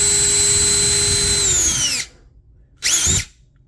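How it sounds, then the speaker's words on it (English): An electric drill spins steadily as it bores slowly through a plastic model train passenger car part, winds down and stops, then gives one short burst. "All I do is I get my drill. We're moving, we're rolling. Put the tip in here, and we're just gonna drill slowly,"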